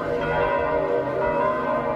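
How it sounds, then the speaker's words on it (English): Church bells tolling for the dead in Spain, a loud, sustained ringing with rich overlapping tones that hang and blend together, filling the space without any voices. "Bells that toll for the dead in Spain, but also bells that speak hope from the Vatican."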